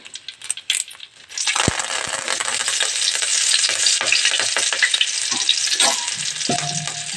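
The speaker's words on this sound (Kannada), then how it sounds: "ಇವಾಗ ಎಣ್ಣೆ ಕಾಲಿದೆ ಇವಾಗ ಮೊದಲಿಗೆ ಹಸಿ ಕರ್ಬೇವಿನ ಸೊಪ್ಪು ಹಾಕ್ತೀನಿ" Fresh curry leaves hit hot oil with a sudden loud burst of sizzling that stays strong and crackly, with a few clinks of a utensil against the pan.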